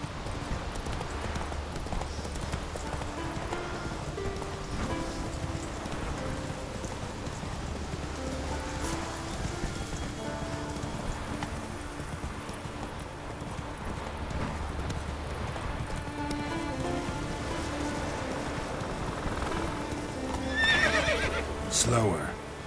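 Roach, a horse in The Witcher 3 video game, trots with a steady clip-clop of hooves and lets out a whinny, heard under a voice and background music.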